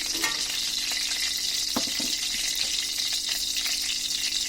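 Two dried red chillies sizzling in hot oil for vuna dal, a dense continuous hiss close up with a few light stirring clinks, no voices.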